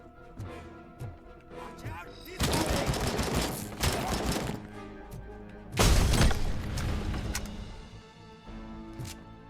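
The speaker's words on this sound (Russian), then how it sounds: "Блин, они там пулемет поставили." Heavy machine gun fire in the RoboCop: Rogue City video game, arriving in loud, dense bursts around the 2.5-second and 6-second marks over a busy game soundtrack, with someone speaking at times.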